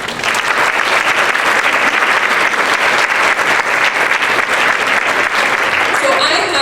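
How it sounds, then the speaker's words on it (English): Audience applauding at a dietitians' marketing campaign presentation, a dense, loud round of clapping that runs steadily throughout and tapers slightly at the end. "let's give them a round of applause."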